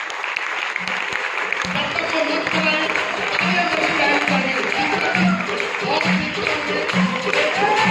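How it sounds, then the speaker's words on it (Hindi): A seminar audience in a hall in Jind, India, claps in sustained, loud applause while an amplified voice speaks over it. "जोरदार तालियों के बीच, बहुत गड़गड़ाहट के बीच"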